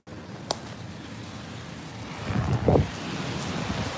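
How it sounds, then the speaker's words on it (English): Steady wind rushing outdoors with low rumbling gusts against the microphone, swelling briefly louder near the end, no talking. "It's gonna get pretty windy here."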